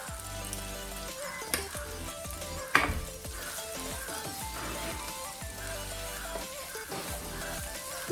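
Chicken fries and sizzles steadily in a pan while a utensil stirs and scrapes through it, with occasional clanks against the metal, close and continuous.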